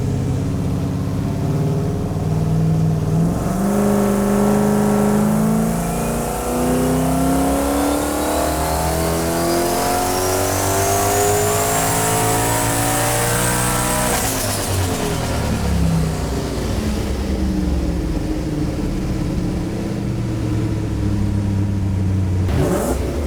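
A turbocharged V8 in a Toyota Supra revs loudly and close up. It climbs in one long rising sweep with a whining turbo, then drops sharply back toward idle under a constant rumble.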